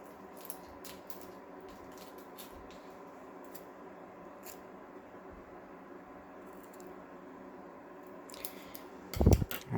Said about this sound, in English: Now I'm gonna use some tape here.